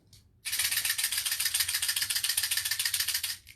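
A homemade shaker, a lidded container half filled with Lego pieces, rattles loudly and continuously in fast, even shakes after a brief quiet start.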